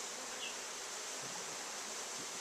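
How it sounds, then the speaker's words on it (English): A crowd of bees gathered indoors around sprayed sugar water, a steady dense buzzing hum filling the space at low, even volume without breaks. "we've recruited a lot of bees from around the neighborhood. They are all over the place in here."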